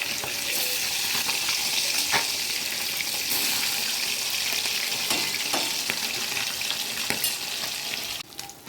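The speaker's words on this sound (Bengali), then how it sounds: "মাছটা আমার ভাজা হয়ে গেছে" Fish sizzles steadily in hot oil, a dense continuous crackle with scattered sharp pops and utensil scrapes, close and loud, no voices.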